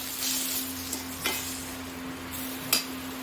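Tomatoes sizzle in a pan in a steady, moderately quiet hiss, with a few sharp stirring clinks and scrapes breaking in, including one louder clack near the end, and no voices.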